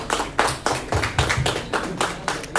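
An audience at a Heads Nepal Macau branch interaction event gives a short round of clapping to welcome a speaker, with distinct, fairly loud claps in an uneven rhythm.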